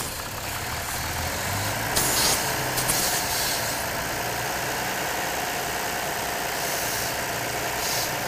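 A car engine idles steadily while settling back to normal after a full-lean air/fuel test, giving a continuous low, even drone with no speech.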